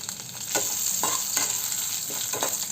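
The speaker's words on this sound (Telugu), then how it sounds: "పోపు ఇలా ఎర్రగా వేపుకోవాలి" Tempering of urad dal, cumin, mustard seeds, garlic slices, asafoetida and curry leaves fries in oil with a steady close sizzle, broken by repeated stirring scrapes in the pan.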